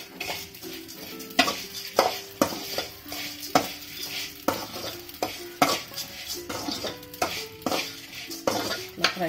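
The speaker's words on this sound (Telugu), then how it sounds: "కొంచెం మంట మీడియం సైజులో పెట్టుకొని ఇవి బాగా ఫ్రై చేసుకోవాలి." Vermicelli upma ingredients fry in a pan over a medium flame while a spoon stirs them in steady, repeated scraping strokes over a continuous close sizzle.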